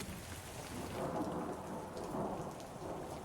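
Thunderstorm in the game Survivor Runeterra, with heavy rain pouring steadily and strong wind, low thunder rumbling and swelling throughout; loud, dense and continuous, with no voices.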